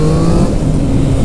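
A three-cylinder motorcycle engine revs loud and close, a dense, continuous roar with a slight rising pitch and no voices over it.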